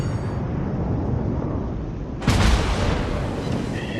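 Heavy battleship guns of the Texas fire in World of Warships, a single loud booming salvo bursting over a constant rumbling battle backdrop, with the roar tailing off slowly afterward.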